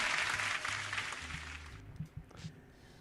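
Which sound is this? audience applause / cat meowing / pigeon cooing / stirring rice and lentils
audience applause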